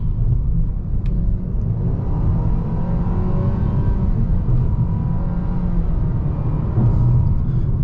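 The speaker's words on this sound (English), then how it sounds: "The RPMs go high, but it doesn't accelerate too fast." A 2023 Nissan Sentra SR Midnight Edition engine revving while driving, a loud steady low rumble with rising harmonic engine tones heard from inside the cabin, continuous and close.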